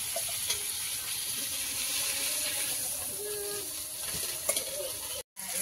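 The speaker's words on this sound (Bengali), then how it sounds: "মাছগুলো দিয়ে দিয়েছি কড়াইতে, ভাজা চলছে।" Fish sizzling in a wok of hot oil, a steady low frying hiss running throughout with a few faint clinks and stirring sounds, heard alone with no talk.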